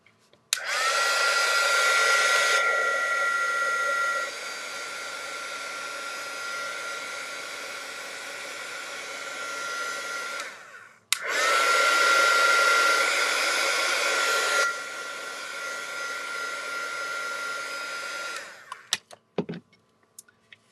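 A handheld heat tool dries ink on a cardmaking background: a loud, steady blowing whir runs for about ten seconds, stops briefly, then returns for another stretch before clicking off, with no talking.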